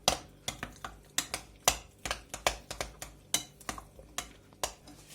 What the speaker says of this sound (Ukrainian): Зараз я трішки підмішаю, яєчко розб'ю.